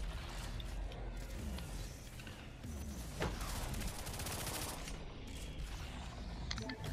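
Rapid weapon fire from a Dota beta game, a dense crackling stream of shots over busy mechanical game noise, steady and loud throughout.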